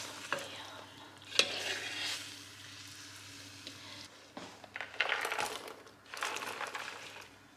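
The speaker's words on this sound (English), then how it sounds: "I'm just going to give it another little mix around" Shredded chicken being stirred in a cooking pot after hours of simmering, with soft scraping and clinking strokes over a faint bubbling hiss, quiet and close.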